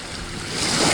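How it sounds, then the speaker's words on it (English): Small waves lap against a canoe at the shore in open outdoor air, a brief wash of rushing water and wind that swells slightly louder toward the end. "We've got some wave action here."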